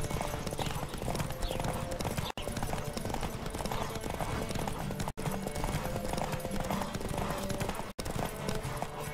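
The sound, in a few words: horse galloping in video game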